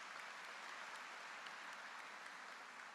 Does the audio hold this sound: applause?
yes